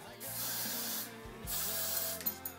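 Hairspray bursts out of an aerosol can while hair is teased, two long close hissing sprays with a short pause between them and a brief fainter puff near the end.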